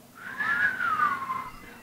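A church congregation whistles together in imitation of the wind, one wavering tone rising and then sliding slowly downward over about a second, fairly loud and without speech.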